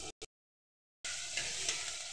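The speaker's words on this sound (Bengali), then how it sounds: "এবার সেটা দিয়ে ভালোভাবে ভেজে নেব" Chopped onions fry in a generous amount of oil in a pan, heard as two brief bursts and then a gap of silence, followed by a continuous, fairly soft hissing sizzle.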